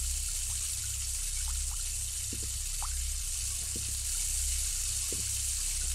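Running water in the horror video game Ghost Watchers, a soft steady trickle that holds faintly and evenly throughout beneath a low background hum, with a few light clicks.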